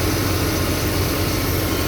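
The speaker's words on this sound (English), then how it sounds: "We can see the compressor has cycled on." A Porsche Cayman engine idles with its air-conditioning compressor running, giving a steady, even low hum and broadband whir that holds constant with no changes or voices.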